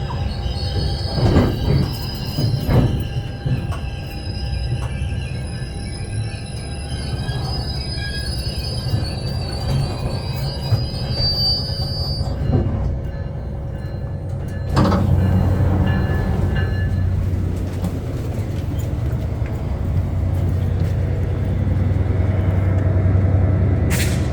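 An Exo commuter train pulls into Lucien-L'Allier Station in Montreal, its wheels squealing loudly for several seconds before the screech fades into a deep rumble and hiss of braking as the train slows to a stop.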